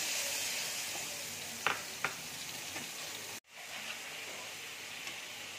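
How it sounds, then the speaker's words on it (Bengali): Spice paste hitting hot oil for a potol pur dish, an immediate loud, broad sizzle with a couple of sharp spatters, then a sudden brief drop before the frying hiss resumes steadily. "তেল দেখো গরম হয়ে গেছে। এবার আমি মশলাটা দিয়ে দিচ্ছি।"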